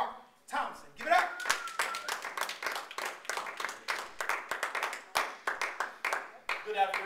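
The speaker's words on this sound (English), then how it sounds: "Let's give a warm round of applause for Make Your Mark in Your Life, Mr. Mark Thompson" Audience clapping greets an anti-bullying speaker at a school assembly, a steady scatter of individual hand claps mixed with vocal cheers across the whole stretch.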